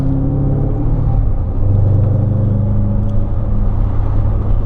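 A 2005–2009 Ford Mustang with an aftermarket exhaust cruises at low RPM, giving a steady, deep, smooth rumble and drone heard close from inside, with slight swells in engine tone.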